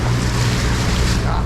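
Yamaha F150 outboard on a 2023 Arima Sea Chaser Ranger boat, throttled up a little on the water; a loud, continuous engine roar mixed with rushing wind and water noise, with no pauses.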